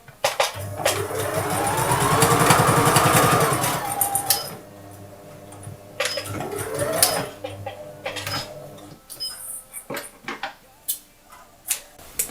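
Sewing machine running a backstitch along the bottom of a jilbab, a steady mechanical whir for several seconds, then stopping, followed by short clicks and handling noises.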